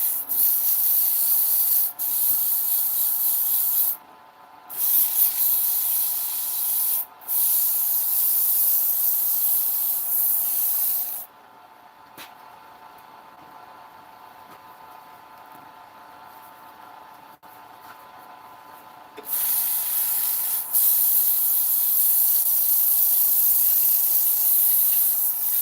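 A power sander running at about 1,000 RPM grinds with a steady hissing rub, close and loud, stopping briefly a few times before starting up again.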